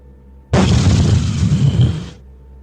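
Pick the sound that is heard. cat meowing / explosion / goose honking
explosion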